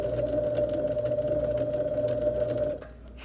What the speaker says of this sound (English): you'll sew down to the first line there